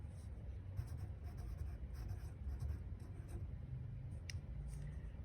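A pencil scratches across a workbook page in soft, continuous strokes and short scribbles, close and quiet over a low background hum.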